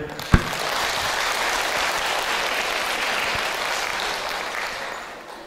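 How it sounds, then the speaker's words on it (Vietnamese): A congregation at a Buddhist temple ceremony in Sydney claps together, a sharp knock opening a sustained, even round of applause that tapers off at the end. "Xin đại chúng cho một tràng pháo tay hồi hướng công đức cho các em."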